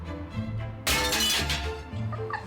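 Glass in a framed picture smashes inside a rubbish skip at a dump, one loud sudden shattering crash followed by tinkling fragments.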